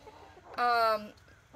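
An older backyard hen lets out a single short, tonal squawk, clear and fairly close, amid quiet surroundings.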